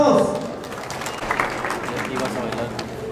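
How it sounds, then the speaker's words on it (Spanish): Applause and cheering at a quinceañera celebration, a dense wash of clapping from the crowd that holds steady for a few seconds, with voices mixed in under it. "¡Escuchen los aplausos!"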